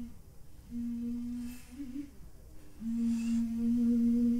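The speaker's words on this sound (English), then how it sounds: "It's a petrol powered model car." Petrol-powered model car engine buzzing from a neighbouring garden, a steady droning whine that rises and falls in pitch, fairly faint and distant against quiet outdoor background.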